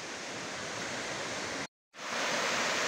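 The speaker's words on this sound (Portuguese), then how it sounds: "Ao que parece, a cascata é artificial." Steady roar of an artificial underground waterfall, broadband and constant, cut by a brief silent gap before resuming slightly louder.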